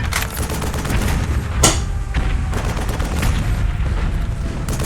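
Rapid gunfire and bursts of automatic weapons in a war video game, fired from below, heavy booming shots and rattling volleys, loud and continuous with sharp peaks.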